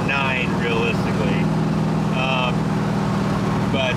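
A 1969 Chevrolet Impala with 3-inch dual exhaust and Summit Racing mufflers idles with a steady, deep low rumble and slight rattle, running continuously near the microphone while someone talks over it.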